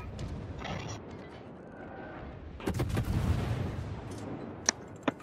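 Heavy ship guns fire in a video game battle at sea, a rumbling salvo of booms swelling midway, followed by two sharp, louder reports near the end.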